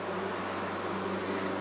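Honey bees buzz steadily around an open frame of a three-deep, eight-frame hive with a yellow queen on a farm, a close, continuous low drone with no talking.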